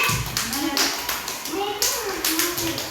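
Children clap in a group, a run of loose, uneven claps close by mixed with children's voices talking and calling out.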